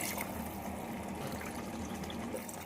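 A glass of spiced masala water for vegetable pulao is poured into a pot, giving a soft, continuous watery trickle and gush, faint and close.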